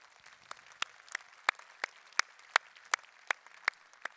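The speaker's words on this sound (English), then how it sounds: "Applause before she's even said a word." A small conference audience at an SNP party gathering claps sparsely, with a dozen or so distinct, evenly spaced hand claps ringing out fairly faintly in a quiet hall, no voices over them.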